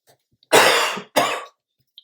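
Two harsh coughs in quick succession, the first longer and louder, with near silence before and after.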